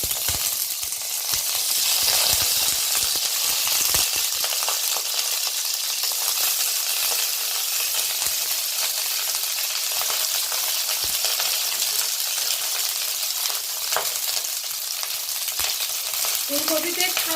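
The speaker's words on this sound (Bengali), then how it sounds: "দেখুন তেলটা খুব ভালো করে গরম হয়ে গেছে। এবার আমি ফুলকপিগুলো ছেড়ে দিচ্ছি।" Cauliflower florets in hot oil in a wok give a bright, steady close sizzle that runs the whole time, with a few faint knocks and clicks scattered through and no talk.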